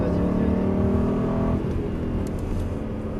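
A car engine revs and pulls hard while accelerating on a racetrack behind a Ferrari, a loud, close, steady drone that dips in pitch midway as the throttle changes.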